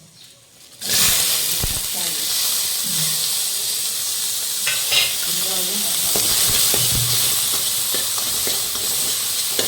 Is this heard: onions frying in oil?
yes